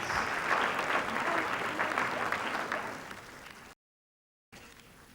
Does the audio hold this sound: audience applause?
yes